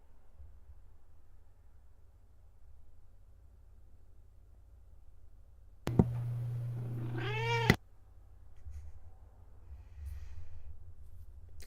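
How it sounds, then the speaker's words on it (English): A talkative cat lets out one long, drawn-out meow that rises and wavers. It is loud and close against an otherwise quiet room. "there's a talkative kitty here"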